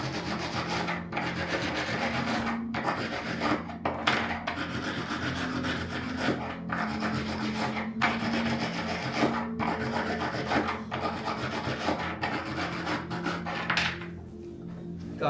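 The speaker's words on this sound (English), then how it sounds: "Got a little wire brush here. Give her a little shine." Wire brush scrubbing a metal tensor ring to shine it: a steady, close abrasive rasping that runs the whole time, broken by brief regular pauses between strokes, with no talking.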